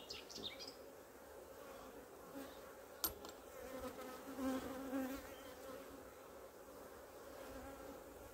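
Steady hum of honeybees swarming around an open hive during an inspection one week after a colony split, a continuous mid-pitched drone that stays constant throughout, with one faint tap partway through and no talking.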